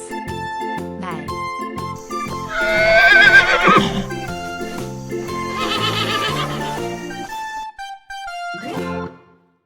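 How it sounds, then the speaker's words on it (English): A recorded horse neigh sounds loud and close, a shrill whinny that rises and trails off, with musical backing underneath. "Horse."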